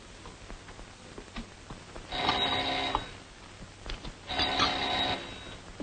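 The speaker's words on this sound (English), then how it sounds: "That bell. Every time it rings, I almost jump out of my skin." An old-fashioned bell ringing in a house, sounding as two distinct sustained metallic rings about two seconds apart, fairly loud over a quiet room with faint background noise.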